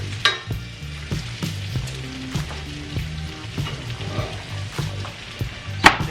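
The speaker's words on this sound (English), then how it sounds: "Nice, sizzling, hot fajita, chicken fajita, right here on Dad's Kitchen" Chicken fajitas sizzle in a hot pan with a close, crackling hiss and sharp pops, and a low hum runs underneath the whole time.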